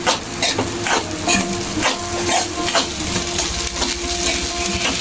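Fried rice with soy sauce and oil is stirred and fried in a pan, a continuous close sizzle broken by quick, repeated spatula scrapes and clinks against the metal.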